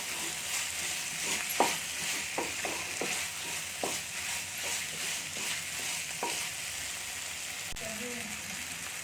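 Chutney ingredients with tamarind and coconut stirred in a hot pan, repeated close spoon scrapes in an uneven rhythm over a soft, continuous frying sizzle.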